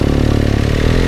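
A tuned motorcycle pulls away hard from a red light, its engine note loud and close with a steady throbbing clatter that holds for about a second.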